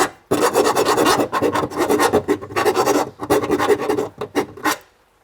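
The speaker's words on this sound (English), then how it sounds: "I might have to use a file to ream that out a little bit." Hand filing with a metal file to ream out a hole in a sedan's body panel while routing backup camera wiring: a dense run of loud, close rasping strokes, some long and some short, then a brief quiet at the end.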